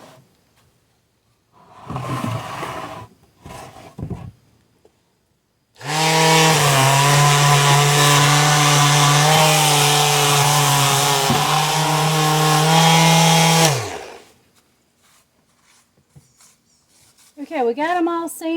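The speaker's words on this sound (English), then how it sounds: "we got them all sanded" A power sander works over wooden plant stands built from scrap wood, running loud and steady for about eight seconds between shorter bursts, with brief talk at the end.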